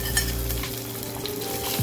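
Mustard seeds and fenugreek crackle and sizzle steadily in hot oil in a pan, a close, continuous frying hiss with small pops and no voices.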